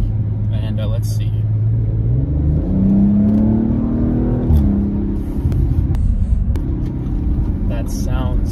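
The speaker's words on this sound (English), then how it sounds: "we're gonna kind of show you this kick down here in a second." A 2021 Audi RS5 Sportback accelerates hard on kick-down, its engine rising in a loud, swelling rumble and whir through the gears, heard from inside the cabin over steady road noise.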